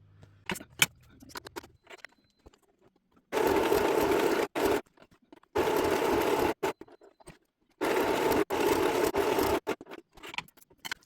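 A sewing machine stitches around the edge of a paper project in three separate loud mechanical bursts of a second or so each, with quieter handling clicks and rustles between them.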